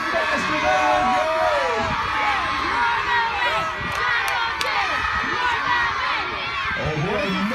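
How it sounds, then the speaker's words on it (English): Spectators at an outdoor camp tribal boat race cheer and shout loudly for their teams, a dense mix of excited yells and whoops, with a commentator's voice cutting through. "keep cheering on your teams. The louder you cheer, the faster they will go."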